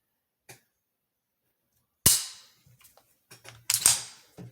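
CZ P-01 pistol trigger being pulled and reset: a faint early click, then a sharp, loud snap, followed by small mechanical clicks and a final cluster of crisp snaps, close up in a quiet room.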